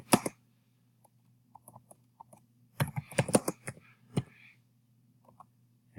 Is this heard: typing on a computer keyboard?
yes